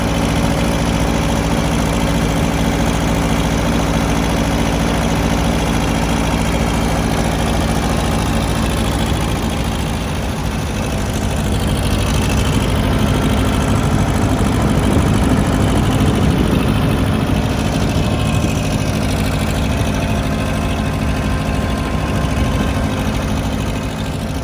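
A farm tractor engine idles steadily close by for the whole stretch, a loud low rumble with constant vibration and a slight swell near the middle, no voices over it.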